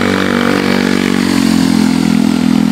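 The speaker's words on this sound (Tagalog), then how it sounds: "Narinig niyo yung tricycle? Motor?" Motor tricycle labouring up a hill on the way to Twin Lakes in Tagaytay, its engine droning steadily and loudly with a strained, clattering note throughout, alone without talk.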